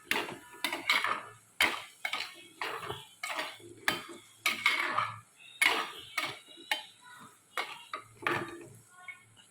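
Gooseberry pickle being stirred and sautéed in a pan produces loud, rhythmic scraping and clanking of a spoon against metal, repeating steadily over a soft sizzle.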